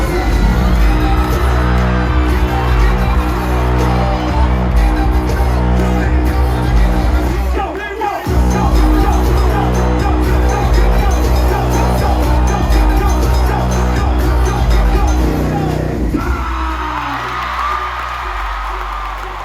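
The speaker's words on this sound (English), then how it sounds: "Cheer them on." An arena crowd at a show in Rod Laver Arena cheers and whoops loudly over pounding music with a steady bass beat, the noise dipping briefly and then surging again before easing near the end.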